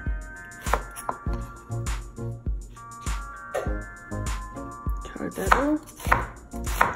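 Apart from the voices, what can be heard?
chopping onion with a knife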